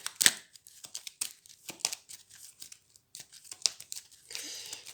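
Playing cards being drawn one after another in the Hero Realms card game, giving a quick series of close, crisp card slides and paper snaps at an uneven rhythm, ending in a longer rustle.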